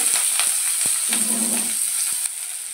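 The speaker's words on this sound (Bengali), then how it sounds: "পেঁয়াজ কুচি দিয়ে দেব।" Chopped onion sizzles in hot oil with a steady hiss and a few sharp crackles and pops, alongside slit green chillies.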